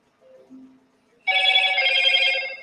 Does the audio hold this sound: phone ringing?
yes